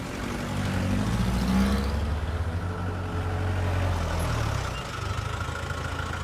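A car engine runs steadily with a low, continuous rumble close by, holding an even level throughout with no voices.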